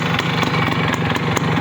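Honda CDI 100 motorcycle engine idling up close, a steady rapid single-cylinder chug with even pulses, alone and fairly loud.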